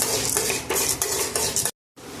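A spatula stirs and scrapes urad dal and black pepper roasting in coconut oil in a pan for a Kerala small-onion theeyal, a rhythmic run of close scraping and light sizzling broken by a brief silence.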